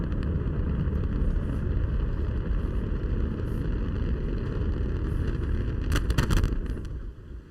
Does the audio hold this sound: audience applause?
no